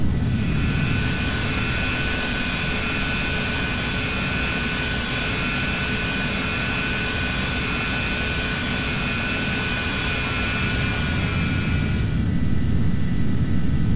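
Embraer Phenom 300 jet engine in a flight simulator game, a loud, steady whine and roar running continuously before cutting abruptly near the end, with no talk over it.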